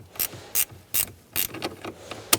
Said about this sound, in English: tighten your 10mm mounting nut until this is completely snug